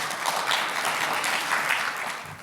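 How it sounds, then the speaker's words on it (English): Audience applause at a panel on Black health, a soft, continuous, fairly distant patter of many hands with no clear individual claps. "est-ce qu'on peut l'applaudir à nouveau puisqu'il revient?"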